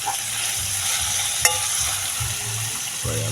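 Saltfish frying in a pan with diced seasoning gives a steady, moderate sizzle throughout, broken by one brief metallic clink of a utensil partway through.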